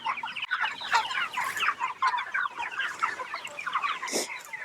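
A flock of meat chickens raised on pasture clucks and murmurs continuously at close range, a busy overlapping chatter of short calls with one sharper squawk near the end.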